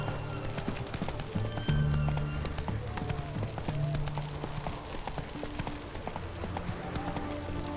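Roach the horse gallops in The Witcher 3: Wild Hunt, with rapid, continuous hoofbeats close by over game music and ambience.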